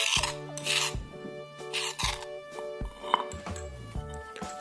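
A spoon scrapes and stirs a home cough-remedy mixture made with coconut oil or cooking oil in a bowl, giving repeated rasping strokes with faint clinks, fairly close and with no talk.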